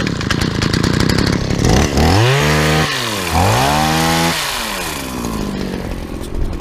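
A Shindaiwa chainsaw with a newly replaced bar fires up and revs, its loud buzzing engine rising and falling through several throttle sweeps before settling into a steady idle.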